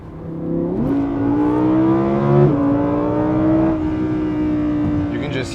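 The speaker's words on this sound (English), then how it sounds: "Just hear that exhaust screaming at you." Audi R8 V10 Plus exhaust revving hard on an open road during spirited driving, a loud high-pitched engine scream rising through the gears with a shift break midway, close and continuous.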